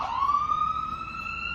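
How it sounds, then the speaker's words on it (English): An ambulance siren wails past on a street, a loud, sustained, rising electronic tone that carries through the whole moment with no talking over it. "What is it, an ambulance?"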